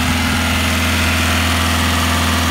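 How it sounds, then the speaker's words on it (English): A car with 320,000 miles and a blocked diesel particulate filter idles close by. Its engine gives a steady, even low hum with no other sounds. "the engine sounds pretty sweet."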